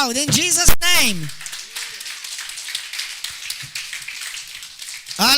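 Brief shouted speech gives way to a church congregation clapping, a crowd's scattered, sustained patter of hands continuing at moderate volume.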